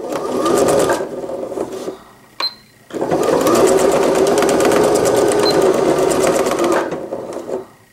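A sewing machine stitches two layered pieces of an infant slipper together in steady whirring bursts, running about a second, pausing briefly with a faint click, then running continuously for several seconds before slowing near the end.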